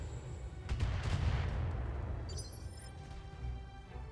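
A mech's missile salvo fires in the turn-based tactical game BattleTech, a rumbling volley of launches and booms that swells then fades, with a faint metallic rattle after, fairly quiet overall.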